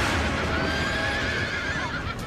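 A horse neighs in a long, wavering whinny that rises and falls, loud and close over a dense, noisy background, lasting about two seconds.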